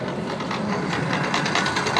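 A quiet outboard boat motor, the pull-cord-start kind, runs with a steady rhythmic putter on a dugout canoe carved from a whole tree in remote Central Africa, close and continuous with no talk.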